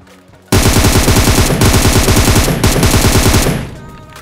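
Loud rapid automatic gunfire in a mobile video game rattles in sustained bursts for about three seconds, then cuts off.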